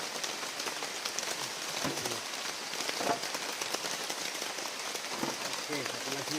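Steady rain falling on a forest during a survival camping trip, a dense, continuous patter of drops on leaves and surfaces, with occasional closer knocks and a faint voice briefly audible underneath.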